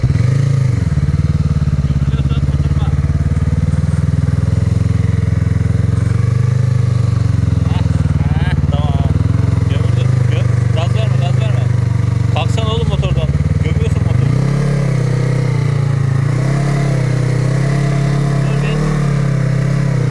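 A motorcycle stuck in sand revs loudly and steadily up close, its engine droning and surging for the whole stretch, with people talking over it.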